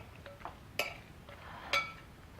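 A utensil clinks twice against a bowl while cucumber salad dressed with vinegar is tossed, with two sharp, fairly quiet taps about a second apart over low background hiss.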